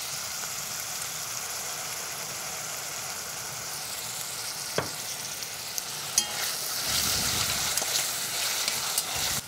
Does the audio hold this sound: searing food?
yes